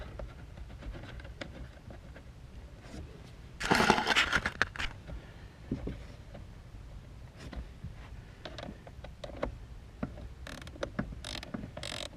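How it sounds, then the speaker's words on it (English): A small ratchet wrench turns the 8 mm bolts holding a heater blower motor in a D21 pickup, making faint, uneven clicking and mechanical rattles with one louder scraping burst partway through. "I got a little ratchet wrench here"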